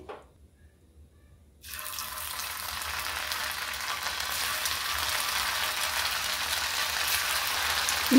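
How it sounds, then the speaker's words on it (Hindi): A snack dropped into hot oil in a pan over a medium flame bursts into a loud, steady sizzle after a moment of near silence, and the crackle grows fuller over the following seconds. "अब तेल गर्म हो गया है अब नाश्ता को डालेंगे"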